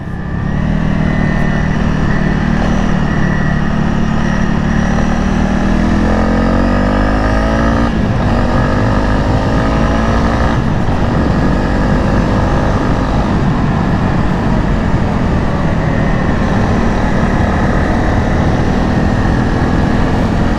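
Honda CRF 300 motorcycle climbing uphill in fifth gear at about 80 km/h, a loud steady engine drone with a slight pitch shift, heavily mixed with constant wind rush from riding.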